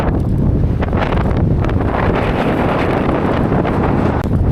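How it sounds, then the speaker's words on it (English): Strong headwind roars across the microphone while cycling across Kansas, a loud, continuous buffeting rush with no pauses and no voices. "By wind in your face all the time."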